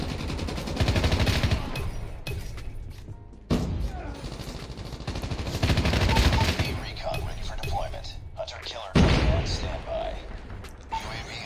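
Rapid automatic fire from the MSMC submachine gun in COD Mobile rattles in dense sustained bursts with brief gaps, loud and continuous, a voice talking faintly beneath.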